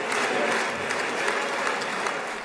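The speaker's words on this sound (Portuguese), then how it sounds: "A sugestão foi bem recebida pela Knesset, que aplaudiu e entoou gritos de Bibi" Members of the Knesset, Israel's parliament, applaud in a dense, continuous burst of clapping filling a large chamber.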